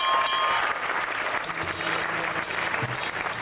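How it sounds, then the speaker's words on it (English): Audience applause for the bands at a live concert, a steady broadband wash of clapping from a crowd that holds at an even level for the whole stretch with no voices standing out. "let's give a round of applause to them and everybody who played"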